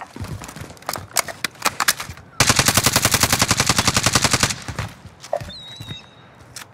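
Rapid automatic gunfire in a video game shooter: a loud sustained burst of evenly spaced shots for about two seconds, preceded by scattered single shots and followed by a few more, close and dominant.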